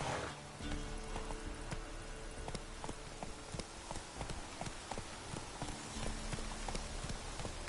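Roach, the horse in The Witcher 3 on PS4, clip-clops along with a steady, rapid drumming of hooves that stays fairly quiet and continuous throughout.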